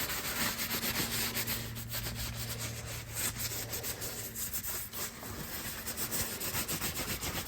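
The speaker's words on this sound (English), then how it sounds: "Getting some boiled linseed oil in there." Boiled linseed oil is rubbed by hand into an old wooden saw handle, a soft, steady scrubbing friction with quick back-and-forth strokes close up, continuous and without talk.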